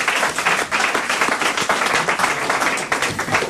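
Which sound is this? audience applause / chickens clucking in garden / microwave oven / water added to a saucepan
audience applause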